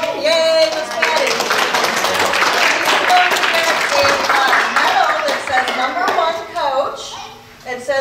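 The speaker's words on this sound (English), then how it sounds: "A big round of applause for volunteering to be our coach for so many years now." Audience applause and cheering honoring a longtime goalball coach at a 2017 recognition event for the Lighthouse for the Blind, a dense steady wash of clapping with shouts mixed in, tapering near the end.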